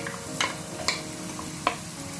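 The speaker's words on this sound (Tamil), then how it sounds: "இப்போ எண்ணெய் கொதிச்சுட்டு வெங்காயத்தை நாங்கள் போட்டு தாளிப்போம்" Onions sizzle in hot oil for a Sri Lankan shrimp kottu roti, a steady close frying crackle broken by three sharp stirring scrapes.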